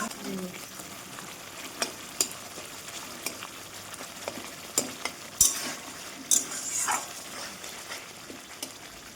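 Spice paste for potato curry, aloo dum, fries softly in a home kitchen, with a faint background sizzle punctuated by sharp scrapes and clinks of a spoon stirring against the pan.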